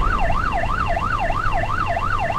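A wailing fire engine siren in GTA, a Los Santos fire truck heading out on a call, sweeps up and down in a steady, repeating cycle, loud and continuous over a low engine rumble, rushing past.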